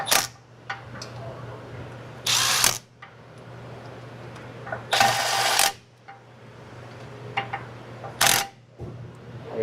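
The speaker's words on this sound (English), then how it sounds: "Just gotta run these bolts in." A ratchet runs bolts into a 2018 Subaru Forester wheel hub in short, loud bursts of rapid clicking, three main runs separated by quieter gaps with scattered tool clatter.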